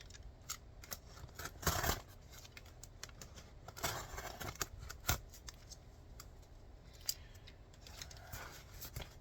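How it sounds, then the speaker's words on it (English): Packing tape pulled and pressed along a cardboard box, heard as faint ripping strips and crinkly taps with brief louder tears, close by and without talk. "The other side we can just tape together like this."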